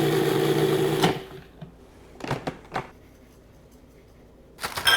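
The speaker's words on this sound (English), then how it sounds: "First, we're going to grind up some graham crackers, enough for 1/4 cup in the mix" A kitchen grinder whirs loudly as it grinds graham crackers for energy bites. The whir stops after about a second, then a few rattling bursts follow, and the motor starts again briefly at the end.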